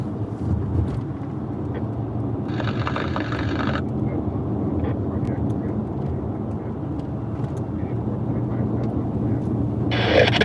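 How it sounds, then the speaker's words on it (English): Police helicopters searching overhead give off a steady, droning rotor and engine rumble that runs throughout, while short bursts of bright radio static cut in twice. "So the helicopters up there are searching as well."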